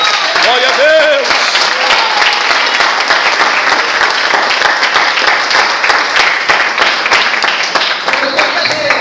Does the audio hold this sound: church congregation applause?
yes